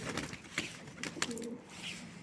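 Tumbler pigeons cooing softly in short repeated calls, faint and somewhat distant, with a few sharper bird sounds scattered among them.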